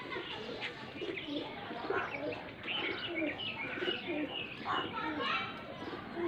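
Soft pigeon coos from a pigeon outside in Faisalabad blend into a busy outdoor scene, with children's voices and chatter continuing throughout at moderate level.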